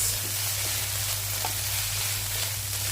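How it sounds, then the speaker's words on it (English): Spinach being mixed in a hot frying pan, a steady close sizzle and crackle with soft stirring scrapes running throughout, over a constant low hum. "I'm gonna give this a good mix."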